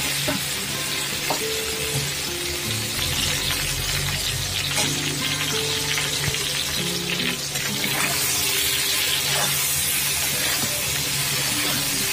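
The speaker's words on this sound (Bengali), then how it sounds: "সাদা জিরে ফোড়ন দিয়ে দিলাম তেলের মধ্যে" Cumin seeds crackle and sizzle in hot oil alongside frying fish pieces for a Bengali fish curry, a loud, continuous spitting hiss with stirring scrapes and a brief tap-water rush toward the end.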